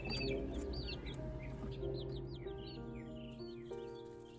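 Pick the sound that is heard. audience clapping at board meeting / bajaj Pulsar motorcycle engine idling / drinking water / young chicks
young chicks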